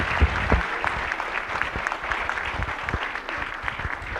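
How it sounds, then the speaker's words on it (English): Applause from a conference audience at an agricultural science event rolls on steadily for the full stretch, dense and even with a few sharper claps near the start, and no voices come through. "I think she needs a very big clap."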